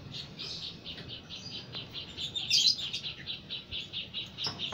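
Small pet birds in a cage chirp in rapid, repeated high tweets, steady and fairly close, with one brighter burst of calls partway through over a quiet room background.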